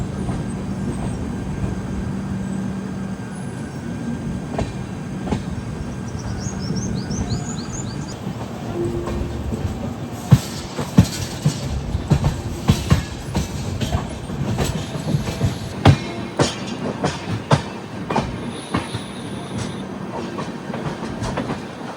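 Passenger train passing at a crossing on an Indian line, a continuous loud rumble with rhythmic clickety-clack of wheels over rail joints and some faint squeal, heard close with no talk.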